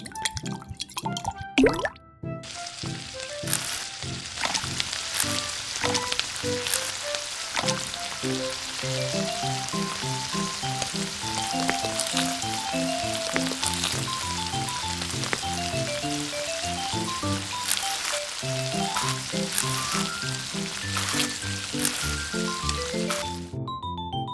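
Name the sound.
cooking oil sizzling while frying miniature food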